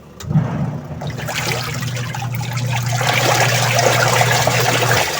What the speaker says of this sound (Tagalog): At malakas na, bumalik uli sa dati yung washing niya